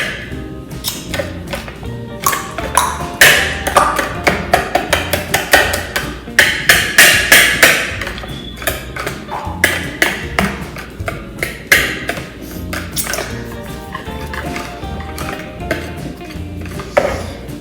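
Keto donut batter is stirred by hand in a bowl, with quick, steady clinks and taps of the utensil against the bowl, repeating in a fast rhythm and sounding close and loud.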